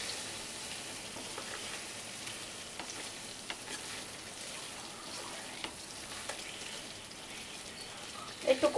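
Spices with ginger paste and coriander powder sautéing in a pan with ridged gourd, a faint, steady low sizzle with occasional soft taps and a few sharper clatters at the end, close and quiet, no voices.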